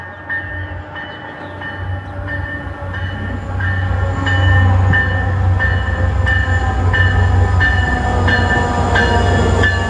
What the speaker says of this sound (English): here comes train 923 bound for Stoughton with some good stuff.